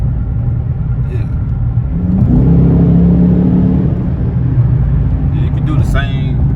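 A Dodge 5.7 V8 rumbles steadily from inside the cabin while driving, a deep continuous drone that swells briefly as the engine revs, heard close and loud with no talking.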